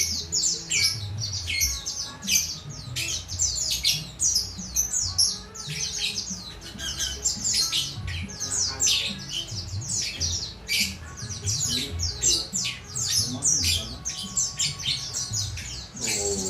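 Pleci (white-eye) birds from Pacitan, a box of many birds just opened, calling continuously with dense overlapping chirps and squawks, loud and close, with no talking.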